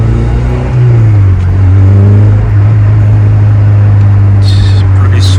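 An 8th generation Honda Civic Si FA5 driving, its engine humming steady and close from inside the cabin with a rise in revs early on and light road noise.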